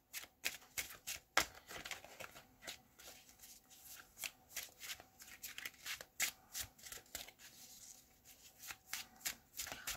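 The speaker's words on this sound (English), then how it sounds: "I'm going to shuffle now" Tarot cards are shuffled by hand in close, crisp bursts of riffling and slapping, repeated in an irregular rhythm and fairly quiet, with no one talking over them.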